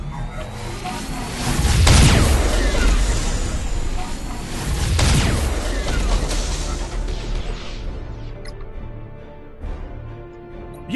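Nova Cannons fire in a space strategy video game, two heavy booming crashes with rushing blasts a few seconds apart, then fading rumbles and smaller impacts.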